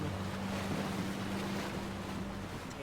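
A boat crossing the sea toward a lighthouse in the horror video game Mimicry: Static Dread, heard as a steady rush of waves and wind with a low engine hum underneath, continuous and fairly quiet, with no voices.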